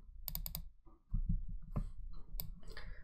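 A few quick computer keyboard keystrokes and clicks in short clusters, close and fairly quiet, as a component name is typed into a Talend design workspace; no speech.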